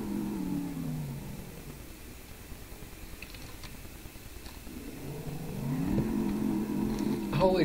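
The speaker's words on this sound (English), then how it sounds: "Pop it a wheelie." A car engine revs up, settles into a lower idle, then climbs again in a rising, strained roar as the vehicle lifts its front wheels, fairly close and steady throughout.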